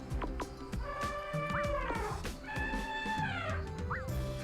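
Elephant voice from a video game's monster creator, two stretched, wavering calls with a sharp upturned squeak at the end, close and fairly loud over steady game background sounds, no speech.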